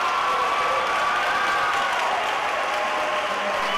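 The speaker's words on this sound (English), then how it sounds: "the crowd just went wild" A big auditorium crowd at a graduation ceremony cheers and applauds without a break, a dense, steady roar of clapping and shouting that holds even and loud from start to finish.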